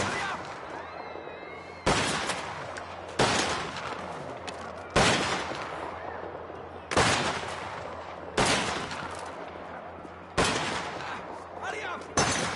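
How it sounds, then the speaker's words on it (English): Gunfire from Mafia: The Old Country, loud sharp shots landing singly at irregular intervals of one to two seconds, each with a decaying tail over a steady low game ambience. "the assassin isn't very good at shooting"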